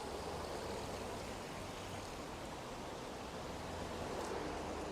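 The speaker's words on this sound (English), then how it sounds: "Some fountains there." Water fountains in Statue Square, Hong Kong, surrounded by very tall buildings, splash in a soft, even, steady hiss. The sound is faint and continuous, like distant running water, with no voices.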